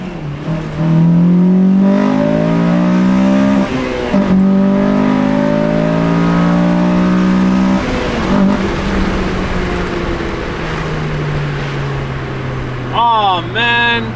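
A boosted Honda Civic engine revs hard into VTEC, its pitch climbing in rising sweeps through successive gear pulls, loud and close inside the car, with voices audible underneath.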